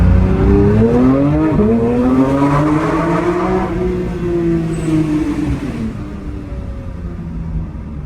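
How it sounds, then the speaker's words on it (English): A sports car engine in track mode revs hard and climbs in pitch, echoing loudly in a tunnel, then fades to a lower rumble. "Sounds like a little F1 car."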